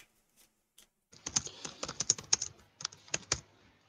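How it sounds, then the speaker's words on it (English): Bursts of typing on a computer keyboard, close and fairly quiet, with quick irregular clicks in short runs after a second of near silence. "I hear you typing."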